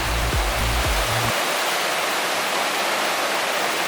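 The South Fork King River rushes steadily at a hikers' crossing on the John Muir Trail, a loud, even roar of flowing water with a few low thumps early on.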